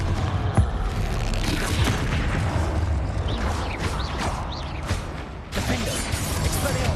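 Confringo fire spell explosions in the video game Hogwarts Legacy, booming blasts and whooshes layered with rumbling combat effects and music, one sharp hit near the start and dense bursts throughout, with a voice shouting briefly.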